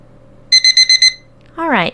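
A timer alarm goes off with five rapid, evenly spaced electronic beeps, followed by a louder rising electronic chirp at the end, clear and close with no talking.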